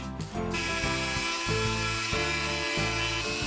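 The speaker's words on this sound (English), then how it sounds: "We got a little hand Dremel. We're just going to round out these corners to make it match." A small handheld Dremel rotary tool rounds the corners of a wooden end table, a loud, steady high-pitched whine running continuously and close after a brief start.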